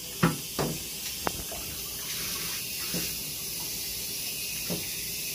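Hot water running and splashing while an aquarium tank is rinsed out, a steady hiss of flow broken by a few sharp splashes and knocks, close by with no talking.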